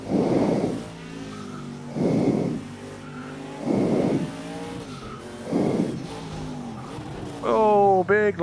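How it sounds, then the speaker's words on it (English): Tire-squealing brake lockups from IndyCars in a racing video game, several loud skids in a steady rhythm roughly every two seconds over an engine drone, ending in a sharper rising squeal, with a voice talking in between. "Big lockup again."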